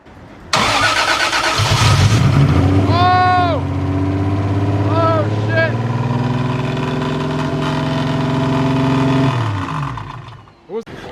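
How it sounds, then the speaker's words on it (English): A freshly built Toyota 1JZ engine idles loudly and close, with bolts clipping against a rear bolt to produce a harsh, scraping, rattling noise over the steady drone, plus a couple of sharp rev blips; voices speak over it. "these bolts were hitting the bolt right here in the back, clipping it, making that crazy scary noise"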